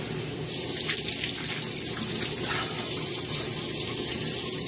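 Water runs steadily from a tap while someone rinses off, a close continuous gushing that grows slightly louder after the first half second and then stays even.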